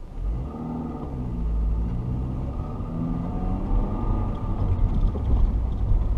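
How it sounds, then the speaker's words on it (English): A 2002 Honda Civic Si engine runs steadily while driving at night, a continuous low rumble with road noise that swells gently and holds at a moderate level throughout. "Typical Honda engine too, where it's very, very ticky."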